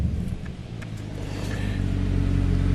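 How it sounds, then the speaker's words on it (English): Low engine rumble from a 2011 Cadillac CTS-V building steadily in loudness, heard from inside the cabin with a missing back window, with no talking. "I don't know if you can hear the exhaust"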